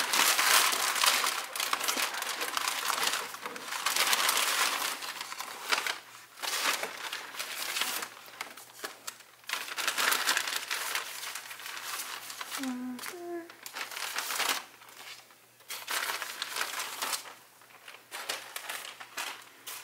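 A Music Plaza plastic shopping bag being opened, with close, continuous crinkling and rustling that rises and falls in bursts for about twenty seconds.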